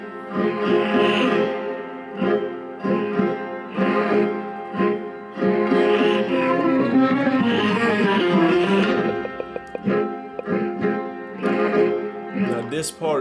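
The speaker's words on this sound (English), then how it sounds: "So this song is a sample that I took." A sampled passage from an old Persian song plays loud and steady, a singing voice over dense melodic instrumentation running continuously with only brief dips.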